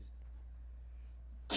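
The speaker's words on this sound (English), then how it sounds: "Hold on, I gotta sneeze." A single sharp sneeze bursts out at the very end, loud and close after near-silence, in a casual gaming-chat setting.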